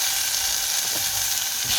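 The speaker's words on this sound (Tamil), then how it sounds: "இப்போ தக்காளி பழத்தையும் போடுவோம்." Tomatoes dropped into a hot pan of frying drumsticks (moringa pods) for a sothi, giving a steady, close hiss of sizzling oil with faint stirring, no voices.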